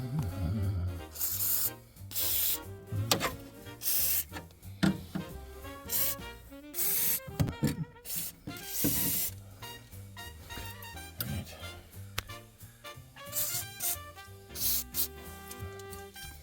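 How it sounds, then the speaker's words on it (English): Sandblasting rusted floor metal on a 1947 Ford Deluxe gives repeated loud hissing bursts of grit, close by, starting and stopping in short blasts with brief pauses between them. "I'm going to sandblast and see how bad this is"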